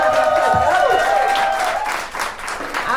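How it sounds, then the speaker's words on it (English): Audience applause and cheering at a poetry slam, a short burst of clapping from the crowd with voices calling out over it. "Clap it up, clap it up, clap it up."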